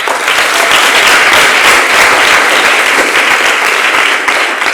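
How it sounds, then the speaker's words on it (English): A debate audience at a youth grand finale breaks into a loud, sustained round of applause, dense clapping filling the whole stretch with no voices over it. "I believe that deserves a round of applause."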